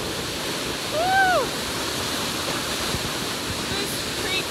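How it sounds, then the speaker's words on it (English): Upper Goose Creek Falls roars as a steady, close wash of falling water, with a brief whistle-like voice call rising and falling over it early on. "You know what this waterfall's called?"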